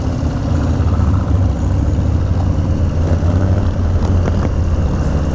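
A Harley-Davidson Heritage Classic Softail with a 131ci engine rumbles steadily under throttle, a loud, close, deep V-twin drone that holds even without any break.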